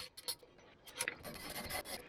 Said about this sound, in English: I do like these flux head ratcheting wrenches.